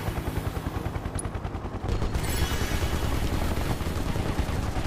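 Rapid gunfire bursts in the action game Final Fantasy 7 Remake, a dense rattling barrage that thickens midway into sustained loud shooting over a low rumbling backdrop.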